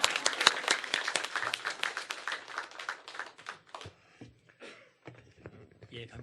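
A church congregation applauds to welcome a guest preacher at an anniversary thanksgiving service, dense clapping for about four seconds that thins into scattered claps and shuffling.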